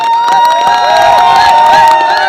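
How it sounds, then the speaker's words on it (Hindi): An audience at a direct-selling and network marketing event cheers and applauds a leader, a loud dense crowd roar with whoops and shouts, steady throughout and layered over sustained musical tones. "जोरदार तालियां everyone"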